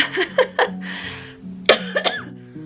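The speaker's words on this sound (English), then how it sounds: "The cough is still very present, but it is getting better." A few short coughs from someone recovering from COVID, scattered among murmured background voices, close and moderately loud, with a sharper burst near the end.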